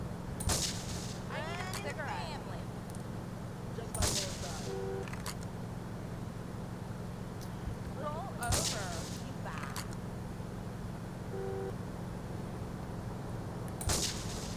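Gunfire in the video game GTA 3: a few sharp, isolated shots spaced seconds apart over a low steady hum, fairly faint, with no speech in between.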